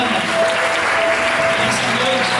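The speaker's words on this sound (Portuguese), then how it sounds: "Você também pode aplaudir o Senhor pela vida da Mariana" A church congregation applauds continuously, many hands clapping in a dense, even wash, with a sustained tone and murmuring voices underneath.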